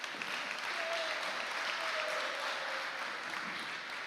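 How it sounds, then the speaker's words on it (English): Sustained, even round of applause from a crowd at a high school sports awards ceremony, steady and moderately distant with no pauses. "Let's give another round of applause to Victor Moreno and Jerry Gonzalez."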